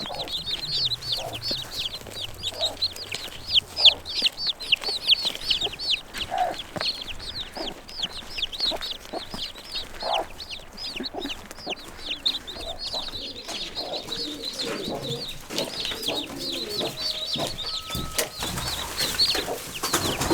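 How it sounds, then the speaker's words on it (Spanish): An agitated hen clucks repeatedly and insistently, kept apart from her newly hatched chicks, with fast, busy calls running throughout amid faint cheeping and rustling. "La gallina está un poco enfadada, obviamente, porque la hemos separado de sus pollitos."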